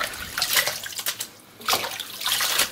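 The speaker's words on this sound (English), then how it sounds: "I'm gonna remove the Callaloo from the water, and then I'm gonna put it in a colander to drain." Callaloo leaves are lifted out of a pot of water and drained in a colander, giving bursts of splashing and trickling water with a short quieter gap in between.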